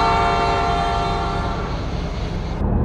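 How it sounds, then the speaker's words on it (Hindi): A train horn blares loud and steady for over two seconds as the train starts, its tone fading slightly at the end over a rumbling rail background. "तो चलिए 1 इन 2 के साथ पहले हॉर्न मार"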